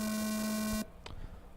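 A single loud, steady electronic race-start tone for an RC car race sounds for under a second and cuts off abruptly, leaving faint background noise.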